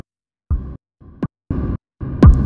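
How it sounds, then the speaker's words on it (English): A deep tuned synth kick from the U-he Zebra synth repeats in short evenly spaced hits, each followed by a tail of reverb, with a sweeping tone rising through the last beat. "So we're getting that reverb-y sound."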